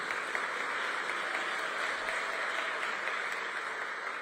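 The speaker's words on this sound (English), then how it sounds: "Year to date, you can applaud for them." An audience at a State of Metro address applauds the city's 911 dispatchers, sustained, even clapping filling a large hall without a break, no voices over it.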